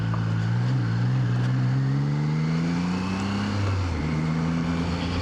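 A 2025 Triumph Trident 660 three-cylinder motorcycle engine hums steadily while riding over bumpy railroad tracks, its pitch rising gradually and then dropping, loud and close with no talk.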